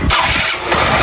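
An old Honda motorcycle engine catching on the first try, a loud, close burst of cranking that settles into a rough, rapid idle within about a second.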